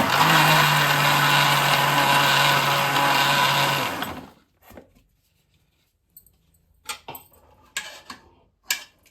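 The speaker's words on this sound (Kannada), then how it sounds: "ಫಸ್ಟ್ ನೀರು ಹಾಕ್ಕೊಂಡ್ಬಿಟ್ಟು ತೆಂಗಿನಕಾಯಿ ಒಂದು ಸ್ವಲ್ಪ ನುಣ್ಣಗಾಗೋವರೆಗೂ ರುಬ್ಕೊಂಡು" A mixer grinder whirs loudly, grinding coconut with water for about four seconds before stopping, followed by scattered soft clinks and handling sounds of the jar.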